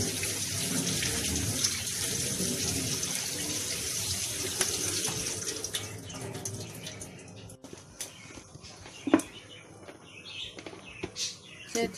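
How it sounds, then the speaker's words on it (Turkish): Green olives rinsed in a colander under a running kitchen tap, a steady broadband stream of water splashing and draining, with brief drips and clatters as the flow tapers off toward the end; no talking. "süzgeçten falan yıkayayım"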